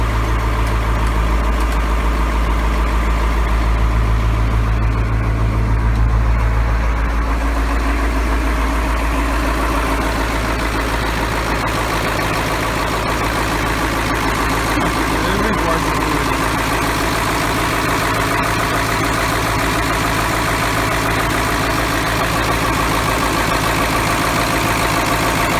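A GM 8.2 diesel engine idles steadily in a 1984 Ford F700 truck, a loud, continuous low rumble with a constant rhythm that runs for the whole stretch, and some background talk mixed in.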